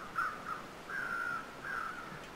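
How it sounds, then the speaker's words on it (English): Crows caw in a snowy wilderness in The Long Dark game, giving about four rough calls, faint and distant over a low steady background hiss. "I hear crows, but I can't see them at the moment."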